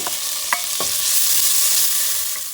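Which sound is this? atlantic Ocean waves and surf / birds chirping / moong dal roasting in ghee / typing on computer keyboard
moong dal roasting in ghee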